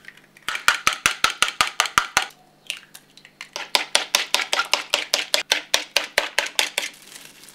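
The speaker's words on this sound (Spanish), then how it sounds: "Batimos un par de huevos." A couple of eggs beaten briskly with a fork in a bowl for croquetas, a fast steady run of sharp clicking taps with one short pause, close and alone.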